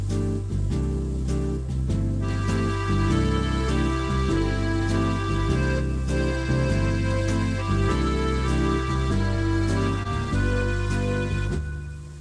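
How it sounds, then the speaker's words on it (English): Arranger keyboard with an accordion voice over a light swing rhythm preset, playing steady sustained chords and melody with backing beat, continuous and fairly loud throughout. "the rhythm preset brings you up to an accordion"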